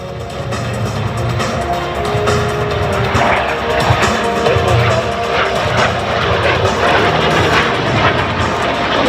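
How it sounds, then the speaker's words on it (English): A BAC Jet Provost T.5 jet trainer flying at an air show, its engine giving a loud, continuous roar that holds steady throughout. "The aircraft we see today is a Jet Provost T.5, the final production version."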